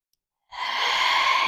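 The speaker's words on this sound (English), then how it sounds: "Take a deep breath in. Exhale, navel to spine. Fullest, deepest inhale." A single deep, breathy yoga breath swells in close and loud after half a second of silence, then holds as a steady airy rush to the end.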